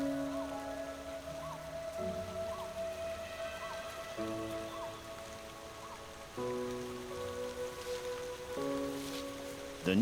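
Rain falls steadily on a forest in China during the wet season, a soft continuous patter spread beneath prominent sustained musical tones.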